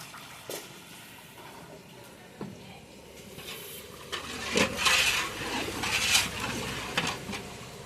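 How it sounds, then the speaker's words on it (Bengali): Water poured into fried mustard paste in a pan, a soft splash and sizzle that builds midway, with light clinks of utensil against the metal pan, fairly quiet and close. "সর্ষে কষে গেছে, এখন দিয়ে দিচ্ছি জল।"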